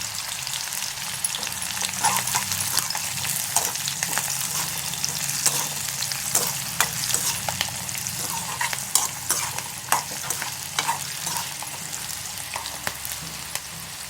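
Chana dal, urad dal and cumin fry in hot oil with a steady crackling sizzle, while a spoon stirs and scrapes the pan in irregular taps close by.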